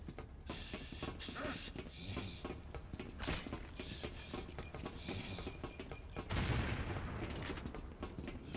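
Scattered gunfire from the Resident Evil 6 video game, set inside a submarine: bursts of shots from several directions at moderate level, with a heavier volley near the end and someone talking over parts of it.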